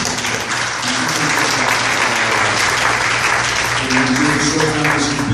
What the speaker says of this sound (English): ladies and gentlemen, let's give her a round of applause